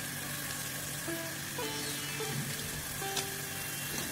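Onion-chilli paste with turmeric fries in a pan, a dense continuous sizzle and crackle holding steady throughout, close and fairly loud, with light stirring.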